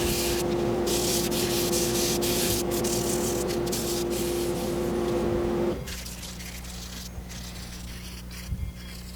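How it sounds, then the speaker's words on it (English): Loud, continuous power sanding on a wood and resin piece with a whining motor, then it stops abruptly, leaving quieter background sound and a few faint knocks. "And back to sanding."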